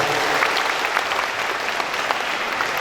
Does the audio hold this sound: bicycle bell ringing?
no